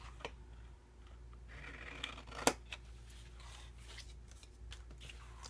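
Scissors snip paper squares at the diagonal corners of a card storage box, giving a few faint, close cuts and rustles in an otherwise quiet room.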